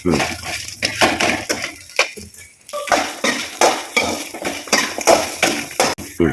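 Whole cloves, fennel, cumin and peppercorns being dry-roasted in a pan for sambar, repeated close scraping and clattering strokes of a spoon against metal in a steady rhythm, with a voice talking in between.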